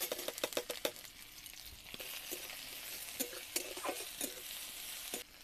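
Chopped onion with ginger and garlic paste sizzles in hot oil in an iron kadai for a potato kachori filling, a soft steady frying hiss broken by sharp clinks and scrapes of a spatula stirring.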